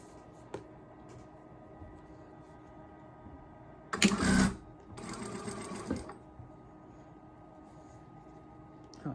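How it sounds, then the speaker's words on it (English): Sewing machine stitching along the edge of a fabric scarf, with a faint hum at first, then a short loud run of rapid needle clatter, then a quieter second burst, heard close with no talking. "And I'm just going to stitch right at the edge."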